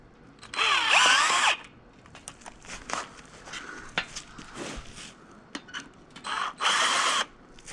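A power drill driving screws into a deck chair board gives two clear whirring bursts, one at the start and one near the end, with clicks, taps and handling noises between them, close and fairly loud.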